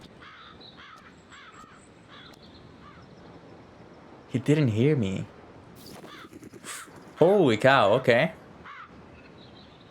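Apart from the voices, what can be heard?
bird cawing in a video game (Tears of Themis)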